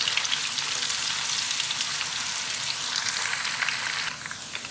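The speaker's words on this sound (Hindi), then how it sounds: "प्याज को फ्राई करते हैं।" Finely chopped medium-size onion fries in hot oil for beef kofta. It makes a steady, bright, close crackling sizzle, and the spatter eases slightly near the end, with no talk.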